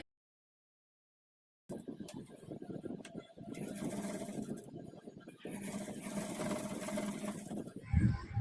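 Sewing machine stitching lace onto a kids' peplum blouse, starting after a second and a half of silence and running as a steady close mechanical whir with brief pauses and a thump near the end.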